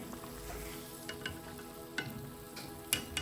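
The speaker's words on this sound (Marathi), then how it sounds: "हा माझा शेवटचा बटाटा वडा मी फ्राय करते" A batata vada fries in hot oil with a quiet, steady bubbling sizzle, punctuated by a few soft clinks from a utensil, close by with no talk.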